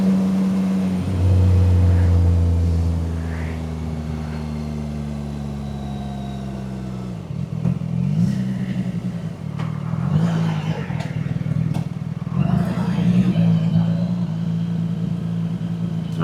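A CF-MOTO 675 SS sport motorcycle on a Saturday ride, its engine droning steadily near the mic, easing off partway through and then pulling again with rising revs and wind noise.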